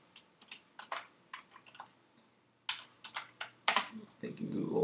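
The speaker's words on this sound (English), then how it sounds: "It's a long name to type with one hand." One-handed typing on a computer keyboard, entering a long name: scattered close clacking keystrokes in uneven bursts, picking up into denser, louder clicks toward the end.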